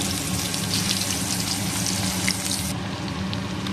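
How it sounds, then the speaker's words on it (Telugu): Pieces of blue sea crab fry in a pan with a loud, continuous sizzle, close by and with no talk, and the crackle drops away sharply near the end. "ఇట్లా వేసుకుని ఇవి నెమ్మదిగా వేయించుకుందాం"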